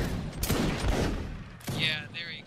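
A musket volley in a line battle game: a crackling burst of many shots fired together, followed by a second ragged burst, loud and close with a little talk mixed in.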